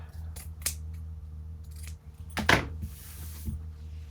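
Scissors trim paper for a handmade Christmas craft, giving a few short sharp snips and rustles up close over a low steady background hum.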